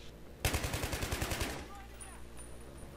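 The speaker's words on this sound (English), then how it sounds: "I love this light machine gun" A light machine gun firing in Battlefield 3: a loud, rapid burst of about a dozen evenly spaced shots lasting around a second, then fading into low ambient rumble and faint background game sounds.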